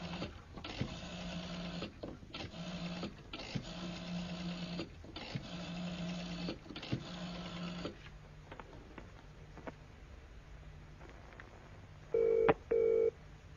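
A telephone rings in a quiet room in a radio drama, giving a steady series of repeated double trills with short pauses between them, then falling silent before a brief click and tone near the end.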